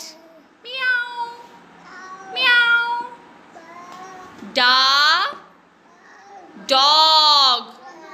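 An adult voice imitates a cat's meow twice during speech therapy for a child with hearing aids, loud drawn-out mews standing out between softer spoken words.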